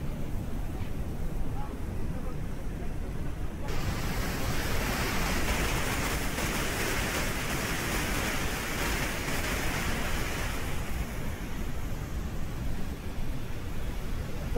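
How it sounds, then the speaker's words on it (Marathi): The Yerala river in Sangli, flooded and running bank to bank after heavy rain, gives a steady, loud rushing roar of water, with a voice speaking faintly over it. "मुसळधार पावसाने सांगलीमधील येरळा नदी ही सध्या दुथडी भरून वाहताना आपल्याला दिसते"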